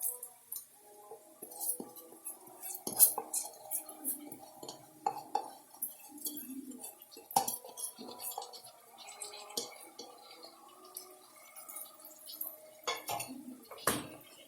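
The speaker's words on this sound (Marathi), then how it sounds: "आता आपण यामध्ये जे तांदूळ घेतले होते धुवून ते टाकूया।" Washed rice tipped into a pan of ivy gourd for tendli bhat, with scattered clinks and scrapes of a utensil against the pan and a soft rustle of grains, close and moderately quiet, no talk.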